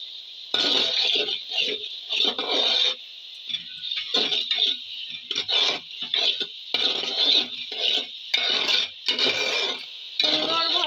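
Beef curry sizzles and is stirred in a pan with garlic, ginger, coriander and green chilli paste: irregular scraping and clinking of a spoon against metal over a steady frying hiss, close up.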